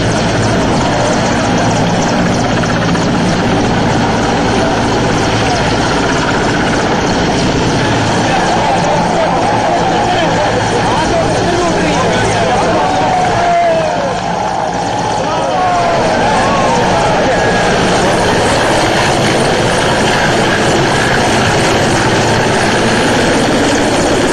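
An Air Force rescue helicopter hovers overhead during a flood rescue in rain and strong wind, a loud constant rotor and engine roar that persists throughout with a reporter speaking over it.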